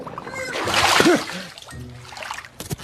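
A character dives into the water of a flooded area to swim through, making a loud splash and slosh with trickling water, set among cartoon voices and effects.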